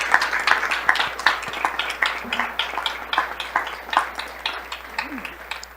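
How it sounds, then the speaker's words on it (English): A small audience claps at a school governing board meeting. The individual claps are distinct and fairly close, forming a steady patter that lasts nearly six seconds, and there is no talking over it. "Big round of applause for all of you."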